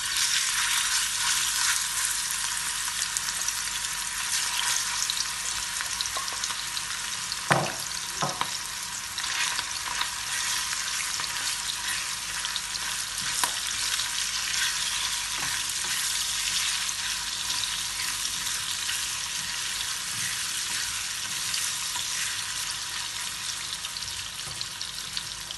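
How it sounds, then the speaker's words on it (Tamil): Shrimp frying in a pan on the stove for a noodle dish, giving a steady hissing sizzle throughout with a few soft clinks and stirring knocks, close and continuous without speech. "நான் இப்போ அடுப்பில் தான் இறால் பொரிக்க போகிறேன்."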